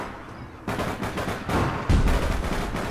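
Gunfire in the online shooter APB Reloaded, loud rapid bursts of automatic shots that start abruptly and keep going, with a heavier boom near the end.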